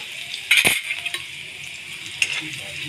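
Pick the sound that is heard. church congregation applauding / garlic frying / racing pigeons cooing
garlic frying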